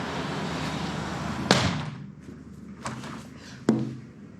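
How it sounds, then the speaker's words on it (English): A double-paned glass door swings shut in a room with a city skyline view, giving a sharp thud followed by a softer knock against quiet background noise. "why don't we go ahead and close the door."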